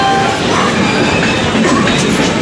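Loud, close rumble and rattle of a train arriving at a platform, continuous and dense for the whole stretch, with faint voices mixed in.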